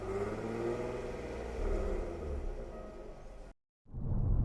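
A Jaguar F-Type sports car exhaust rumbles and revs with a throaty growl, cuts to brief silence, then roars back in loud and close.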